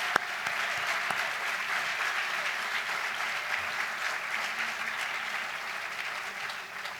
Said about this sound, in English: Let's give them a round of applause and say thank you and welcome